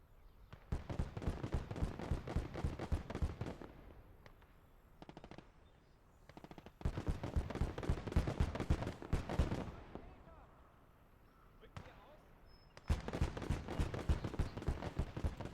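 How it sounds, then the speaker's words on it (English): Machine gun fire in the World War II game Gates of Hell comes in long, loud bursts of rapid shots separated by brief pauses, close and harsh with shorter volleys in between. "We steal the machine gun and we try to get some extra rounds for it."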